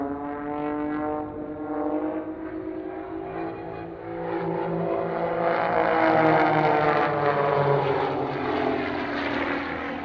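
A Pitts S-1-11X aerobatic biplane's propeller engine drones loudly and steadily, its pitch slowly rising as it swells closer, a buzzing harmonic roar with no voices, at an airshow.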